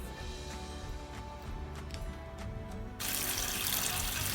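Strawberries are washed under a running kitchen tap. The water splashes and trickles close by at a low level, then swells into a fuller, louder gush partway through, with no talking.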